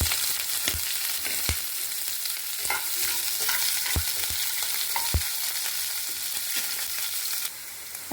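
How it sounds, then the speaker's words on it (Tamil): Mustard seeds, urad dal and small onions sizzle in hot oil, a dense crackling fry with sharp popping bursts and stirring scrapes, steady and close with no voices. "எண்ணெய் சூடாகிடுச்சுங்க. கடுகு உளுந்தம் பருப்பு போட்டுக்கலாம். சின்ன வெங்காயம் போட்டுக்கலாங்க."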